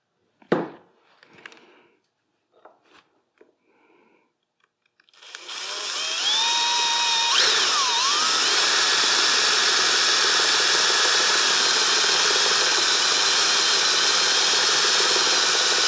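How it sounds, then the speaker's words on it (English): A power drill runs steadily for about ten seconds on a Mercedes 560SL Big-Sert insert repair, a loud continuous whine with a pitch dip mid-run, preceded by a few light clicks and handling noises. "it's going to require a drill instead"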